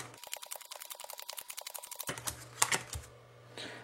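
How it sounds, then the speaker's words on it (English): Playing cards dealt down one at a time, giving a quick series of light, crisp flicks and snaps at a steady rhythm, close and quiet, followed by a few softer card slaps and a brief rustle. "We're going to deal through the cards."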